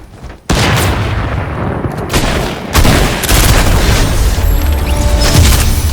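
Gunfire in Fortnite heard as heavy booming bursts and rattling shots after a brief quiet start, loud and close, coming in dense waves with a short lull midway.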